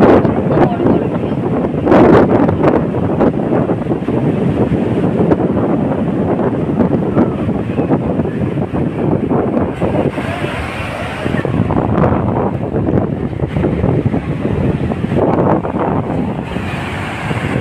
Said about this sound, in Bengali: দেখো কত বড় বড় ঢেউ।